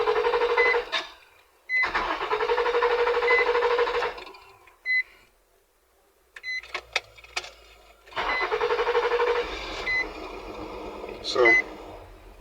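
A Nissan Maxima engine with a replaced throttle body cranks and starts, then runs in loud sustained stretches broken by pauses and a few short beeps, close to the microphone.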